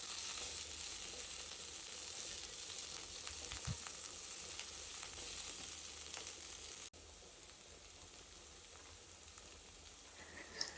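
Three sprigs of curry leaves sizzle steadily in hot oil during a prawn dry fry, a continuous bright crackling hiss with a few louder pops, close and unbroken, briefly dropping in level partway through.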